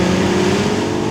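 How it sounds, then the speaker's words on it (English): A 2021 Aston Martin DBX's AMG V8 engine drones loudly and close, a steady, deep rumble with a strong low hum held for about a second. "Listen to that. That's an AMG V8, which Aston Martin get to use."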